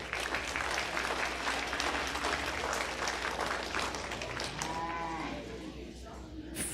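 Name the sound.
audience applause at a stock show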